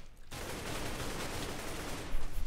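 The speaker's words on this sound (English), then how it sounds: "Yo, they're throwing all their grenades over here." Grenades in the Minecraft MineStrike mini-game burst as a continuous, loud, crackling explosion noise that fills the whole short stretch and swells near the end, with no voice over it.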